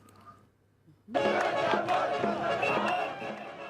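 Jubilant crowds in Khartoum greeting protesters who arrived by bus from Darfur, a sudden loud swell of cheering and shouting voices after a quiet start, sustained and close.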